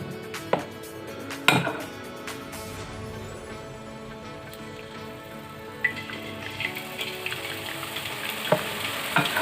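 Boondi batter drops into hot oil for boondi laddoo and fries with a dense, crackling sizzle like rain, while a perforated ladle taps and knocks against the pan now and then.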